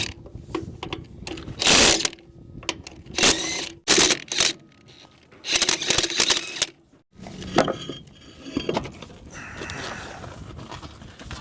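A socket ratchet works a bolt loose on an old pickup truck: several bursts of rapid ratcheting clicks, close and fairly loud, separated by short pauses, with a rougher grinding stretch near the end.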